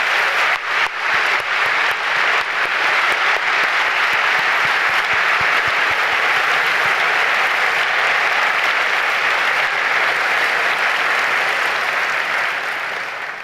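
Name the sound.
applause for hospital and university staff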